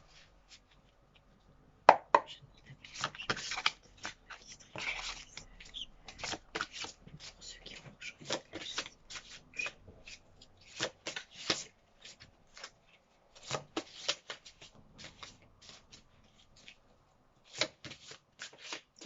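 Large, thick oracle cards being shuffled by hand, with irregular riffling and slapping bursts separated by short pauses, close and fairly quiet, and a voice speaking intermittently.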